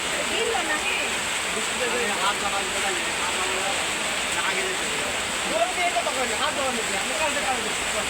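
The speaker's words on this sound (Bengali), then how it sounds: "বৃষ্টি তো" Steady rain hisses from inside a moving bus, a constant wash of noise with faint voices under it.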